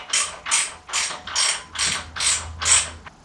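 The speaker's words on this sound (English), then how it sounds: "we're gonna take off this 17mm nut right here" A ratcheting wrench works a 17mm nut off a motorcycle engine guard bolt, seven quick, loud ratchet bursts in a steady rhythm close up, with no talking.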